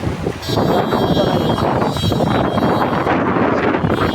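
Strong wind during heavy rain in Gazipur roars as a loud, steady, buffeting rush, almost constant throughout, with no voices standing out.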